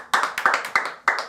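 A few people in a public-speaking class clap in short, sparse bursts, individual sharp hand claps close by in an uneven rhythm.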